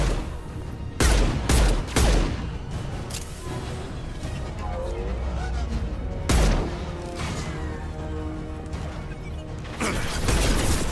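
Gunfire from the video game Mass Effect 2: loud, sharp bursts of shots in quick clusters, with a steady rumble of combat noise between them and no talking.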